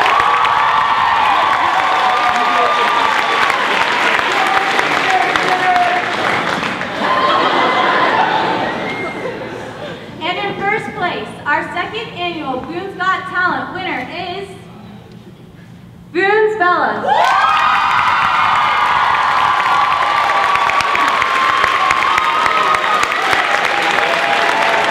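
A large crowd at a school talent show applauds and cheers loudly, dips into scattered shouts and chatter midway, then bursts back into sustained clapping and cheering.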